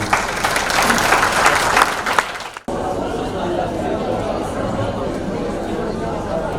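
Audience applause at the close of a county political forum debate, a loud dense clapping wash with crowd murmur that cuts off abruptly, then quieter room chatter and murmuring follow.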